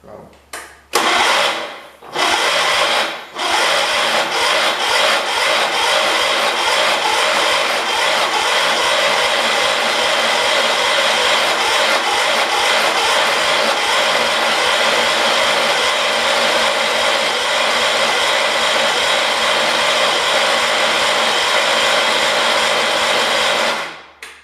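A rebuilt 1978 car engine with throttle applied, running as a loud, steady mechanical drone for over twenty seconds after a couple of brief starts, then cutting off at the end.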